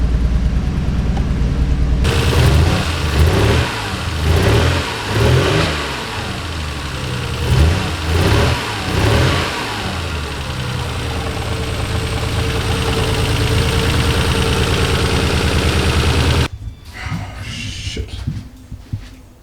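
A Nissan R32 GT-R engine idling unevenly, with lumpy, sputtering pulses and uneven revving, close and loud before cutting out near the end.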